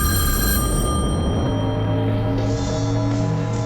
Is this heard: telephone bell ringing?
yes